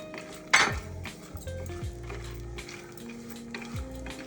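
Crushed garlic dropped into a hot pan of frying dal, a sharp sizzle burst followed by steady frying with scraping stirs and clinks of a metal spoon against the pan, no voices.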